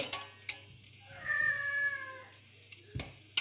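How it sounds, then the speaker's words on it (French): A cat meows in a home kitchen while butter melts for a roux for blanquette de veau: one drawn-out, rising and falling meow, close and clear, bracketed by a few sharp kitchen clicks and clatters. "Ah, et mon petit chat, t'as faim?"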